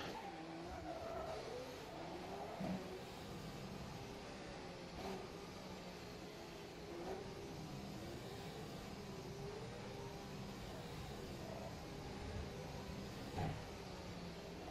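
Formula race car engine from the 2016 season in the sim racing game rFactor 2 at Spa, an onboard whine rising and falling through repeated gear changes, fairly quiet and continuous with no talking.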